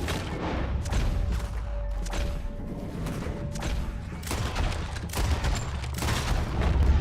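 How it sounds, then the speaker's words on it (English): Shootout gunfire in Red Dead Redemption 2, a dense fusillade of overlapping shots and thuds around a wagon being pushed under fire, continuous and close throughout with little speech. "I'm shooting everybody over here"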